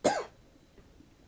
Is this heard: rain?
no